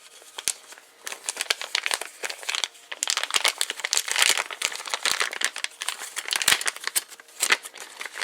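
A plastic bag holding the vertical and horizontal tail stabilizers for a Tarot 500 helicopter is handled, giving close, irregular crinkling and rustling bursts that come and go over several seconds with no talking.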